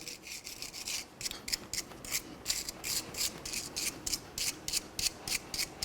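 Someone scrubs a rusty rear brake backing plate on a 2004-2006 Scion xB, giving close, rhythmic rasping strokes in quick bursts with brief gaps, steady and fairly loud with no talking.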